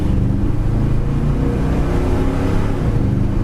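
A 1968 Ford Galaxie with a small-block V8 and two-barrel carburetor accelerates with a steady, throaty engine drone, loud and close from inside the car, with no talking.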